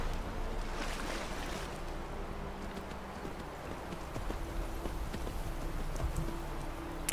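A horse swimming through water in the video game Skyrim, with rhythmic clip-clop-like strokes and sloshing splashes running steadily under ocean-like ambience, no talking.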